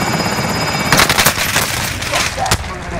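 Rapid bursts of gunfire in Call of Duty Warzone on the Fortune's Keep map, several loud automatic volleys and sharp reports cutting through steady game ambience, with a crisp single crack near the end.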